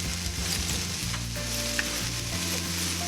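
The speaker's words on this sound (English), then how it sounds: "sizzling here because a lot of the juices from this quesadilla are going to be coming out and leaking out." Kimchi quesadilla sizzling steadily in a hot pan, its juices leaking out and crackling with a dense, continuous hiss, close and fairly loud, with a low hum running underneath and no talking.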